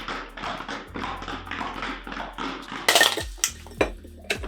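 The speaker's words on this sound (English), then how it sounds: "And give it a really good shake" Ice in a cocktail shaker being shaken: a steady rhythmic rattle of about a dozen clinking beats, followed by a few louder metallic knocks and taps as the shaking stops.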